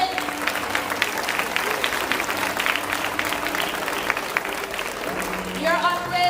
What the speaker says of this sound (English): To the parents and families, give yourselves a round of applause.